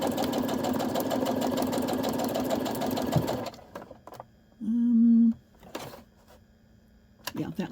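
Sewing machine stitching fabric for a pleated bag topper, a steady loud whirring run for about three seconds, then quieter handling noises and a short burst of back stitching.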